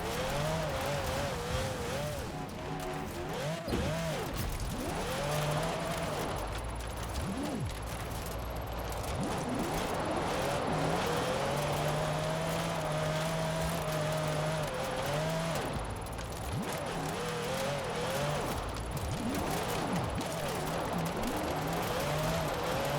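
A car drifting in Forza Horizon 4, the engine revving and droning over long held tire squeals, running loud and continuous throughout.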